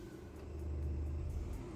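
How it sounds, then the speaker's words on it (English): A low truck engine rumbles steadily in Euro Truck Simulator 2, heard through a wound-down crank window, swelling slightly as it revs, with no voices. "wind the crank window down so you guys and girls can hear the engine"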